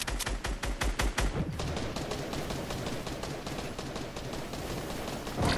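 Rapid video game gunfire: a quick burst of loud, evenly spaced shots, then a long run of faster, fainter automatic fire, with one more loud crack at the very end.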